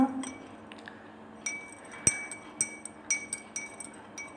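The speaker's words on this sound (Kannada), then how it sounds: "ಚಮಚದ ಸಹಾಯದಿಂದ ಮಿಶ್ರಣ ಮಾಡಿಕೊಳ್ತೇವೆ" A spoon stirs sugar and salt into lemon juice in a glass, giving a run of bright, ringing clinks against the sides, irregular but steady, close and alone with no talk.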